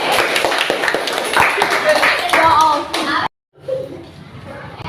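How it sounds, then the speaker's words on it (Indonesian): Schoolchildren in an Indonesian classroom clap for a classmate, a ragged burst of hand claps with young voices mixed in, stopping abruptly near the end before quiet murmuring resumes. "beri tepuk tangan untuk Mas Harit"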